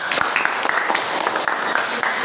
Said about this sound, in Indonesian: Oke, tepuk tangannya dulu dong